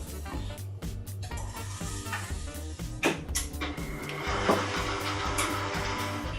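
An electric mixer whirs steadily through coffee and walnut cake batter in a home kitchen, a continuous loud motor drone with occasional clatters against the bowl.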